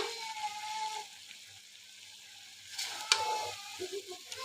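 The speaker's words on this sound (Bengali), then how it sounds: "আমি ঢাকনা খুলে এখন ভালোভাবে নেড়ে দিচ্ছি" Pumpkin and Malabar spinach are stirred in a pan after the lid comes off, giving soft scraping and a low sizzle in two bursts with a quiet gap between them, plus a sharp clink of the utensil partway through.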